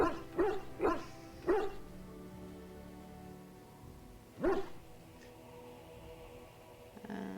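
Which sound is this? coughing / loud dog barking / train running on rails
loud dog barking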